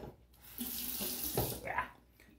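Water runs from a tap into a sink during a wet shave, a soft rushing splash that swells and shifts for about two seconds before fading, close by and with no voices.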